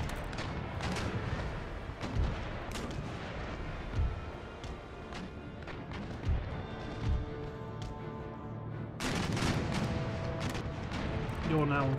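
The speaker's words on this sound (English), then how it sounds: "Fire broadside left, then fire broadside right." Ship cannons firing broadsides in a naval battle in Empire: Total War, several heavy booming volleys spaced a couple of seconds apart over a dense roar of battle, with a louder burst near the end.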